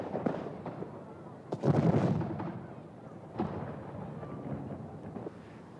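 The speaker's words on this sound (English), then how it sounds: "as well as the displays of spectacular fireworks." A series of booming fireworks bursts at Blackpool, several loud cracks spaced a second or two apart over a steady crowd-like rumble.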